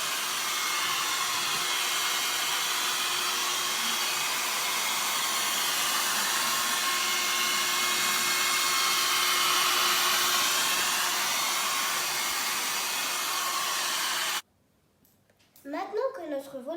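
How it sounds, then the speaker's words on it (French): A hair dryer blows steadily at full power for a long stretch drying a craft model volcano, with a constant whooshing hum, then cuts off abruptly, leaving faint sounds. "Je vais essayer de le sécher avec un sèche-cheveux."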